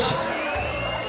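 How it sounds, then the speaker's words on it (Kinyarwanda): Audience at the IMPANGA Series Awards 2022 ceremony cheers and shouts with a steady, busy crowd roar as the Best Actress winner is called to the stage. The noise is loud and sustained throughout. "Amashyi menshi cyane, tumwakire hano ku stage"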